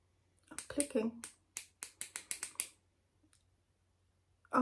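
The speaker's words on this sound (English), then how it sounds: "I'm going to click the pen a few times just to see." A concealer pen is clicked several times in quick succession, sharp close taps in an uneven burst, followed by a short gap and a brief sound at the end.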